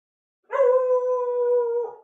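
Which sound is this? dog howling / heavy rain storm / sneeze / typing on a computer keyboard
dog howling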